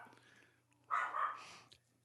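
A dog gives one short bark or yelp, fairly close and moderately loud, followed by a brief whine over a faint low hum, with no talk.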